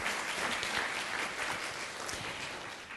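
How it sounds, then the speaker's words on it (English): Audience applause at an art-project presentation, a short burst of broad, even clapping heard at moderate distance, fairly soft and steady without talk over it. "first round of applause doesn't hurt"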